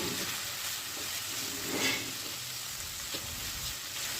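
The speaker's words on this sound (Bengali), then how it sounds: "এখন আমি কাঁঠালের বিচিগুলোকে আরও দু এক মিনিট ভালো করে ভেজে নিচ্ছি" Chopped jackfruit seeds frying in a pan, a soft continuous sizzle with faint stirring scrapes, fairly quiet and steady throughout with no voices.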